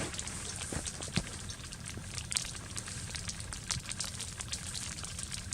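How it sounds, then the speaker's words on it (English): Snow and ice patter against a tent on a mountain camping trip, a faint continuous hiss dotted with scattered sharp ticks and taps of icy particles striking the fabric. "You can hear the snow slash ice hitting the tent in the background."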